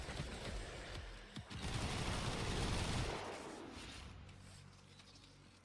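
Rapid gunfire from the Epitaph weapon in a shooter video game, a dense stream of quick shots that fades after a few seconds, with sharp clicks and mechanical sounds after it.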